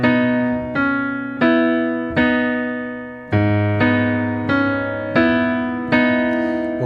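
Piano playing the introduction of a song, a steady series of about eight ringing notes and chords, each struck clearly and left to sustain and fade into the next, with no talking.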